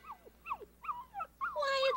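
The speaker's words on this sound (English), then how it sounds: "Why, it's a hungry puppy." A hungry puppy whimpers in a series of short, rising and falling whines, ending in a longer, louder whine, with no other sound around it.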